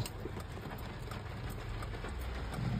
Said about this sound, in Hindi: देखो फ्रेंड्स केते जोर वर्षा होची भुवनेश्वर रे